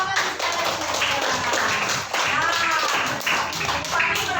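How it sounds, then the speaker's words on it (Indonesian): Students in a primary school classroom clap together in a steady, lively burst that continues throughout, with children's voices mixed in. "tepuk tangan sekali lagi"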